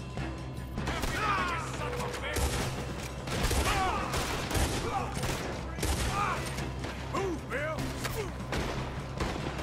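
Rapid bursts of gunfire ring out in the Red Dead Redemption 2 video game, overlapping in a loud, dense fusillade over a low rumbling bed, with people talking through it.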